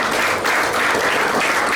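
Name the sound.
audience applause at worship event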